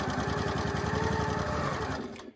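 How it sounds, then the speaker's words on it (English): Sewing machine stitching pieced quilt fabric together, a loud close rapid mechanical chatter running steadily for about two seconds before slowing and stopping, with no speech. "we're going to sew them together"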